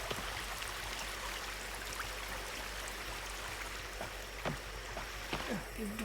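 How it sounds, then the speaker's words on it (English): A forest waterfall gives a steady, soft rushing of falling water heard from a distance, with a few brief higher chirps rising above it near the end. "look, it's a waterfall"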